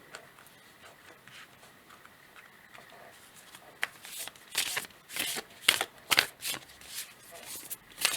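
Oracle cards are shuffled by hand, faint soft riffling at first, then a run of crisp, louder flicks and slaps bunched in quick bursts near the end.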